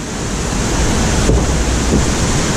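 A small drop on a water ride at Parc Astérix throws up a steady rush of splashing water and wind noise, loud and close, with no clear separate splash.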